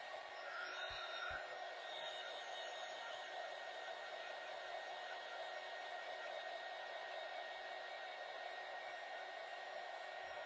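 A hair dryer blows steadily on a craft piece, a continuous faint whirring hiss running unbroken throughout, with no voices.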